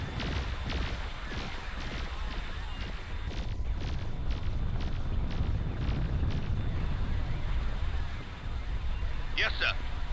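Space battle explosions as an enemy squadron is destroyed in the game Nexus: The Jupiter Incident, a dense continuous rumble of booms and blasts, loud throughout, under a voice.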